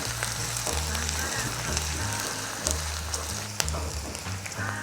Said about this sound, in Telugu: ఆనియన్స్ సన్నగా తరిగిన ఉల్లిపాయలు వేసి ఇవి కూడా బాగా వేపుకోండి